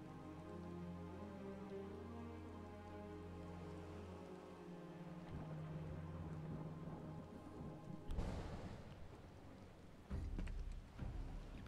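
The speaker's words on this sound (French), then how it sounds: "Il pleut des cordes." Heavy rain in Final Fantasy VII Rebirth, a steady patter beneath a low sustained drone, with sharper thunder-like crashes breaking in near the end.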